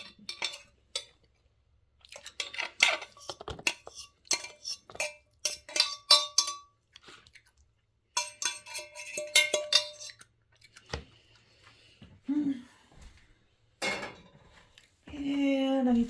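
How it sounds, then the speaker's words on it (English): Fried cabbage with bacon being spooned into a bowl, with sharp metal-on-dish clinks and scrapes coming in scattered bursts, close and fairly quiet, and a person talking briefly between them. "So I'll just put it in this bowl."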